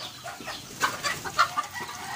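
Chickens cluck at feeding time, with several short, sharp clucks in quick succession over a soft rustling background, close by and without any talking.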